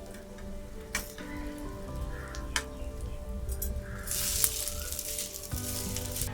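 Egg-coated bread slices frying in a pan for a quick bread omelette, giving a steady, moderately close sizzle with a low, constant hum underneath.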